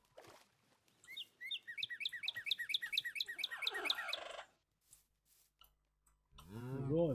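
Bird chirping in the Minecraft video game: a rapid run of bright, evenly spaced tweets for about three seconds, then a few scattered calls, and a louder low-pitched sound at the very end.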